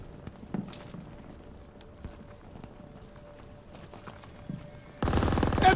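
Sustained machine gun fire in the World War II shooter game Call of Duty: WWII, bursting in loud and dense near the end after a quiet stretch of scattered faint clicks and steps.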